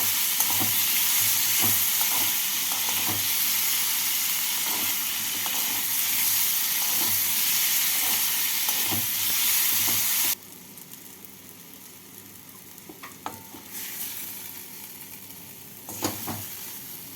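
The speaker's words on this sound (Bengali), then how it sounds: "মশলাগুলোকে তেলের মধ্যে এক মিনিট মতো ভেজে নামিয়ে ঠান্ডা করে বেটে নেবে" Spices sizzle and fry in hot oil for a cashew paste, a loud continuous crackle with stirring taps that abruptly drops to a quieter simmer with scattered clicks and scrapes partway through.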